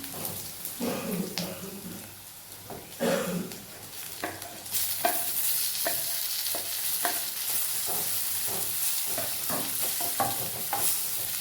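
Red onions with green chillies fry and get stirred in a pan for egg cutlets, a steady close sizzle broken by repeated spatula scrapes and taps, the hiss growing brighter partway through.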